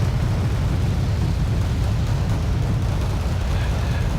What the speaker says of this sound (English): And in come the rockets.